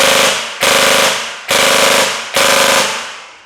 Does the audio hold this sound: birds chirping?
no